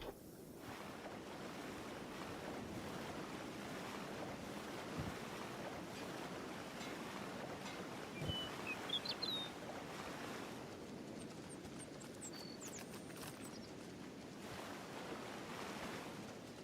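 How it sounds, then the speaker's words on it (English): Steady, dense acid rain falls in the Kenshi video game, a continuous hiss-like wash with a few faint high chirps over it and no speech. "Of course we got acid rain."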